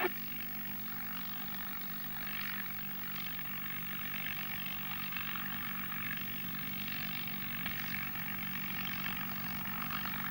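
A propeller-driven airplane, apparently a WWII-era fighter with a liquid-cooled engine, taxis with its engine running in a steady, loud, close drone. The pitch holds even, with a faint rise and fall, and no talk is heard.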